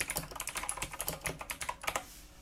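Close-up typing on a Tronsmart TK09R RGB keyboard, a rapid run of crisp key clicks in a fairly even rhythm that stops just before the end.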